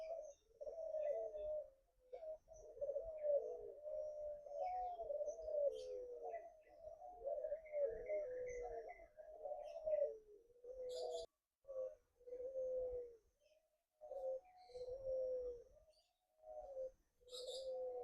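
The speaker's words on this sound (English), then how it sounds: "These are different type of doves called Barbary dove." Barbary doves at an aviary in a bird park in Penang, Malaysia, give repeated soft, low rolling coos in a steady rhythm, close by, with a few higher chirps from other birds scattered behind them.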